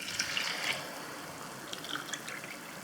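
Coconut milk and water pour into a pot of rice for mushroom biryani, a close, continuous liquid splashing and trickling with brief bubbly spurts at the start and again later.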